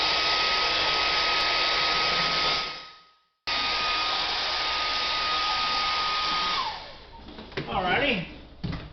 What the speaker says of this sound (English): This really helps dry paint fast in acrylic.